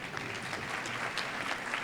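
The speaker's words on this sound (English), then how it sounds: "Let's give everyone a round of applause" Audience applause for the honorees at a National Philanthropy Day ceremony, a steady wash of many hands clapping at moderate distance, continuous and even throughout with no voices standing out.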